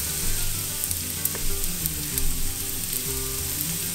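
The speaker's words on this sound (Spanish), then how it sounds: "lo vamos a freír a lumbre alta" Rice frying in plenty of oil over high heat, a steady close sizzle and crackle with occasional stirring scrapes, no voices.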